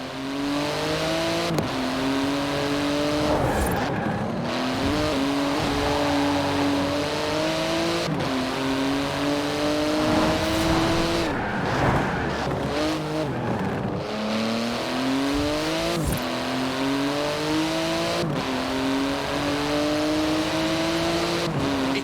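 A Porsche 911 GT2 RS with magnesium wheels and titanium exhaust, driven in Forza Horizon 4, revs hard through repeated upshifts, its engine note climbing and dropping in steady cycles, loud and continuous with no talk.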